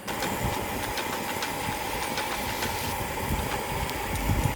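A propane camping stove burner roars steadily outdoors in cold, windy weather at about minus one degree, a dense, constant rushing flame with gusty buffeting and faint clicks throughout.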